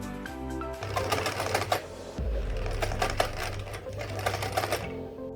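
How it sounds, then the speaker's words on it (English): A sewing machine runs in close, rapid mechanical bursts, stopping briefly partway through before starting up again and stitching steadily. "But this time, we're using the sewing machine."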